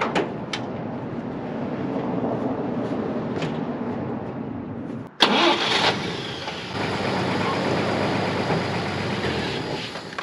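A double dually mutt truck engine cranks and catches midway, the starter whir jumping into a loud roar that settles into a steady rumbling idle, heard up close with no talking.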